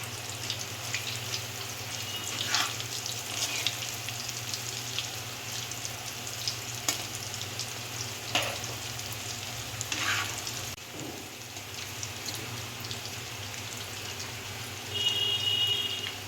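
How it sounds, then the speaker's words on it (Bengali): Moong-dal pithas deep-fry in hot oil in a kadai, a soft, continuous sizzle and bubbling that stays steady and fairly quiet throughout, with no voices. "এগুলোকে এবার একটু লাল লাল করে ভেজে নিতে হবে।"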